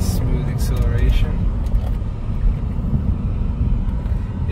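A 2000 BMW M Coupe with a 5-speed gearbox pulls smoothly under acceleration, its engine a steady low rumble mixed with road and wind noise heard from inside the cabin while someone talks over it.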